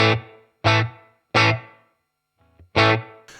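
Four heavy distorted electric guitar chords from a Tonex amp capture ring out one after another, each with a short roomy reverb tail that fades into silence.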